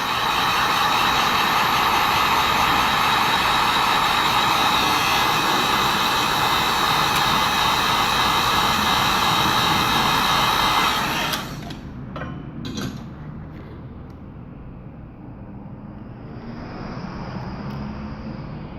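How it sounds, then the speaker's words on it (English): A heat gun warms the screen of an iPhone 7 during a repair, giving a steady, loud blowing hiss and whine that runs unbroken for about eleven seconds before cutting off, leaving a quieter background with small handling sounds. "So I'm using the heat gun to heat up this part here."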